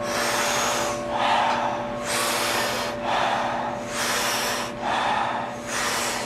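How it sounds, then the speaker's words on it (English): Deep, forceful breaths in and out through a rounded mouth, repeating in a steady rhythm of about one per second, loud and close, during a Kundalini breathwork yoga class. "taking about 40 powerful breaths into the body through a round mouth"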